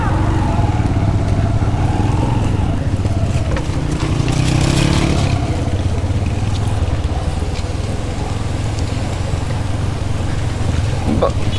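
A motorcycle crosses a rough mountain road near Shandur Top between Mastuj, Chitral and Gilgit, its engine droning loud and steady throughout, with a brief surge of revving midway and a rumbling, bumpy texture.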